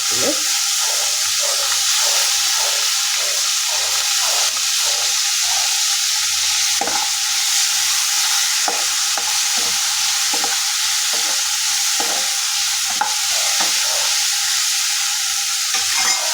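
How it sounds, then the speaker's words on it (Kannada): Okra sizzles loudly in a hot pan at a home festival cooking session, with steady frying hiss broken by rhythmic stirring scrapes throughout. A single short spoken word is heard. "ಇದನ್ನು ಸುಮ್ಮನೆ ಸ್ವಲ್ಪ ಫ್ರೈ ಮಾಡ್ಕೊಳ್ತೀನಿ"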